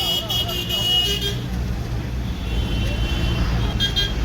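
Local city bus ride across Kolkata toward Howrah Bridge, with steady road and engine rumble, passing traffic and an occasional horn toot up close, and voices in the background.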